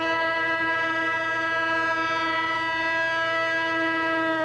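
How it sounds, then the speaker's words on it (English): Conrail freight train in Erie, Pennsylvania sounding a sustained multi-tone horn chord, loud and steady for several seconds with a low rumble beneath. "The familiar sound of a Conrail freight train in Erie is back tonight."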